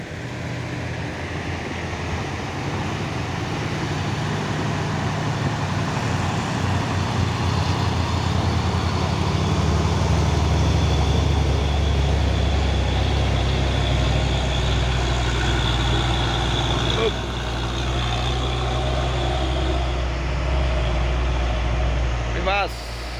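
Two Fuso dump trucks and a Hino 500 truck pass on an uphill road, a deep diesel rumble that swells toward the middle and then fades, with other traffic around.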